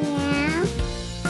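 A cat meows once, close and clear, with a rising then falling pitch, during a preschool learning activity at home.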